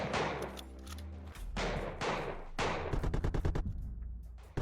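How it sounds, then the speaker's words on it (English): Rapid bursts of gunfire and explosive booms fill a battle in the video game MAXIM, with stuttering automatic fire toward the end, loud and continuous. "who is here seeing this gunfire battle here"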